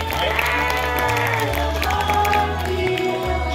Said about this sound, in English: Let's give them a big round of applause to all our graduates